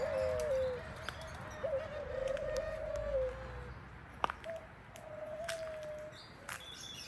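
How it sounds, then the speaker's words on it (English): Doves cooing at a campsite, soft low repeated coos rising from quiet outdoor ambience with a few faint bird chirps. "Doves."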